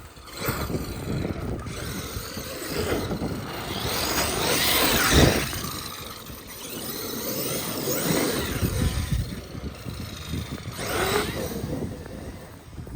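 A Traxxas X-Maxx RC truck fitted with a Castle 2028 motor revs and whines in surging bursts, rising and falling over several runs at a moderate distance, with no talk.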